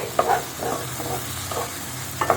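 Egg frying in an open pan after being covered, with soft sizzling and scraping strokes repeating every half second or so, close and steady with no talk.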